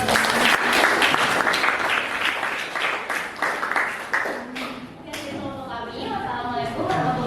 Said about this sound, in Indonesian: Kita beri aplaus yuk buat